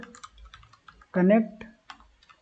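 Someone types on a computer keyboard in short clusters of soft, close key clicks between pauses, with someone talking over part of it.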